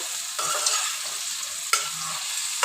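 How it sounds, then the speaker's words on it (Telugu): Bitter gourd pieces frying in a pan and stirred until golden, a steady close sizzle broken by two sharp scraping stirs, no talking. "ఇలా మధ్య మధ్యలో కలుపుతా గోల్డ్ కలర్ వచ్చేంత వరకు వేయించుకోవాలి"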